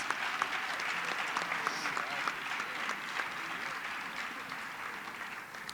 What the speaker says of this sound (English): Let's give these two teams one more round of applause.